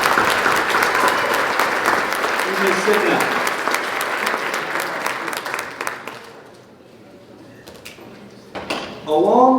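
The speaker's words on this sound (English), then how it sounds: "Give them one more round of applause." Audience at a high school fall sports banquet gives a round of dense clapping that fades out after several seconds, followed by a speaker talking.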